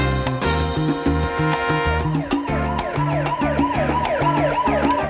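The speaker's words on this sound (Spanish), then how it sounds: "sirena del coche de policía" A wailing siren woven into music, its rising and falling tone running over steady piano chords and a rhythmic beat.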